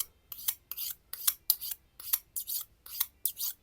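A Tramontina kitchen knife with a dull, unsharpened tip cutting through material in a kitchen, with about nine close, crisp rasping strokes in a steady back-and-forth rhythm separated by brief silences and no talking.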